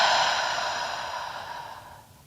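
A long, breathy exhale through a wide open mouth during a bedtime yoga breathing exercise, close and clear, fading gradually over about two seconds with no talking.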